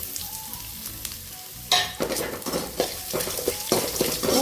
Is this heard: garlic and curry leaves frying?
yes